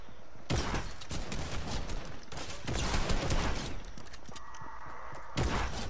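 Rapid bursts of video game shooter gunfire, loud, close and sharp, come in several volleys with brief gaps between them.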